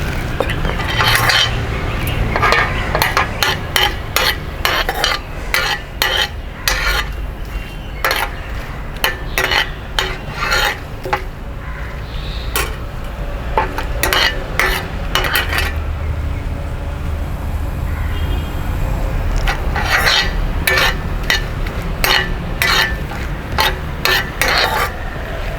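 Cinnamon, cloves and a bay leaf fry in hot oil for a pepper chicken dish, giving off a steady sizzle. Loud metallic clinks and scrapes from a spoon against the pan keep breaking through.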